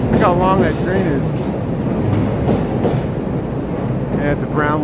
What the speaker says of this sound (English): Look how long that train is.